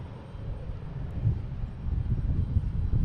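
A Delta Airbus A321 leaves Boston Logan for Atlanta with a low, rumbling engine drone that builds slightly over a few seconds, set against a little wind buffeting, and no voices.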